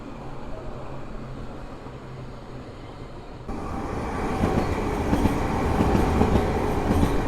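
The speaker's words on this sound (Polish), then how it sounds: "A teraz mijanka pociągiem do Sochaczewa" A Stadler Flirt passenger train passes at Warsaw station, its steady rumble swelling suddenly midway into a louder, close rolling roar with faint rail clatter that continues to the end.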